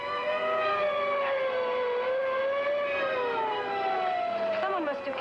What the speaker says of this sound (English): Someone must have called an ambulance.